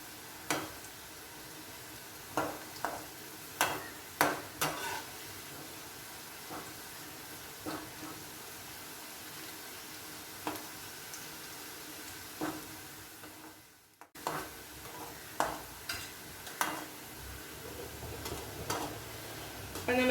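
Onions fry in hot oil for crispy fried onions for biryani, giving a steady soft sizzle with scattered sharp clicks and pops from stirring, near and moderately quiet throughout, with a brief dip before the frying noise resumes.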